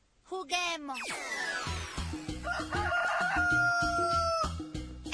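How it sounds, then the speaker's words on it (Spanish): A cartoon rooster crows loudly in a children's animated guessing game, with a long, bending cock-a-doodle-doo over a bouncy music backing and a brief spoken word at the start. "Es el de un gallo."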